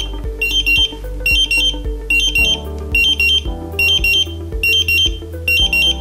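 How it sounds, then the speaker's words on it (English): A Draeger X-am gas detector sounds its alarm after a bump test, with loud repeating bursts of shrill electronic beeps in a steady pulsing rhythm over a low buzzing vibration, close up and continuous throughout. "Again, we're still responding to the gas that was used for the bump test. Press the OK button to silence those alarms"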